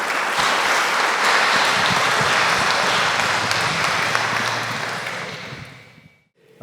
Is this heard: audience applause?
yes